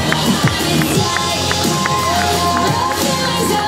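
A roadside crowd at the 2013 Canada Army Run half-marathon cheers steadily and loudly, a dense wash of shouts and claps that goes on without a break, with footsteps and a few scattered voices mixed in.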